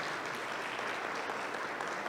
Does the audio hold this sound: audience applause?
yes